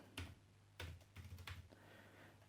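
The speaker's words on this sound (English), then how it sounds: "I'll just quickly have a type on it, see how that feels." Quiet typing on a Chuwi Hi12 V2 metal keyboard gives a few close key clicks in short clusters, with no talk.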